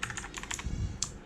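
Keys clack on a Gigaware K550 mechanical keyboard fitted with cheap universal keycaps: a quick run of close, crisp keystrokes, a short pause, then one more sharp press.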